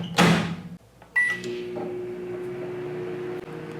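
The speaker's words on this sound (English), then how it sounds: "This is a 950 watt microwave." A 950 watt microwave oven runs on a DIY 12V 1500W solar generator inverter: a loud door thump, a brief quiet, another clunk as it starts, then a steady electrical hum that continues to the end.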